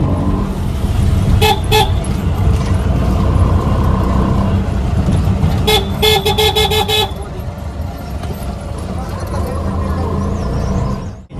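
Riding in an auto-rickshaw through busy traffic, with engine hum and a steady road rumble, while car horns toot in short repeated bursts nearby and a person talks throughout.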